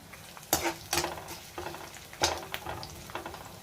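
Small pieces of tamarind, ginger and garlic fry in oil in a pan, a soft continuous sizzle broken by a few sharp spatula scrapes and clinks, near and without speech.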